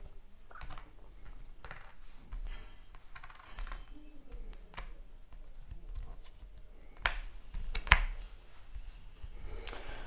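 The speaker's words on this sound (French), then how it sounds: "On redresse les cartes." Playing cards are squared up on a tabletop during a Marvel Champions card game, giving a few soft, close taps and shuffling slides spread across the moment, with some sharper clicks near the end.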